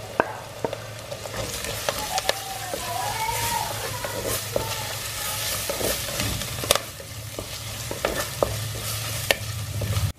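Ginger and garlic sizzle in hot oil in a pan for Kerala karimeen mappas, a steady close frying hiss with intermittent scrapes and clinks of stirring, a voice speaking briefly.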